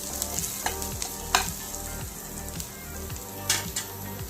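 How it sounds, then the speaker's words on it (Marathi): Onion and garlic paste sautés in hot oil while a spatula scrapes through it in regular strokes, producing a continuous close sizzle with rhythmic scraping every half second or so and no voices. "छान कांदा परतला आहे आपला।"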